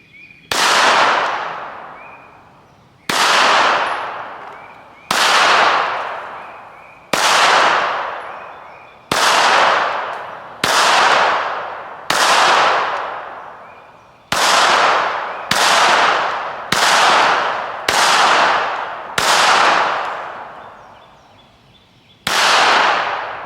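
Roughly a dozen sharp, loud pistol shots from a Ruger Security .380 at a shooting range, fired at about 14 yards in an uneven rhythm, each crack ringing out and decaying before the next, with no talking.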